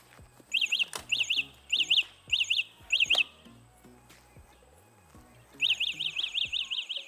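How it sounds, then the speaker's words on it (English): A Wing Freedom ST eBike anti-theft alarm sounds in repeated bursts of shrill, chirping electronic beeps, stopping briefly and then resuming in a faster run, heard from a short distance. "So you can hear the alarm going off"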